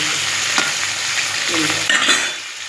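Onions frying in a pan, a steady loud sizzle with occasional stirring scrapes throughout, and no voices.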